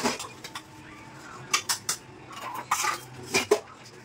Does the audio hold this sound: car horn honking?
no